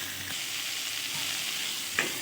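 Tomatoes sizzle in a pan with a bright, continuous frying hiss, broken by a couple of spatula scrapes, the last one sharper and louder near the end.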